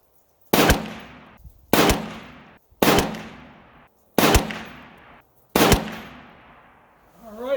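A PSA 6.5 Grendel rifle fires a string of five handloaded rounds at an outdoor range, each shot a sharp, loud crack with a long echoing tail, spaced about a second apart.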